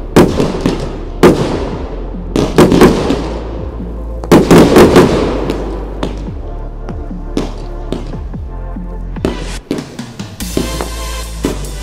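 A fireworks display bursting outdoors at Kidsgrove Athletic football ground in repeated loud booms and crackles, some clustered in quick volleys, with crackling fizz and echoing reports between them.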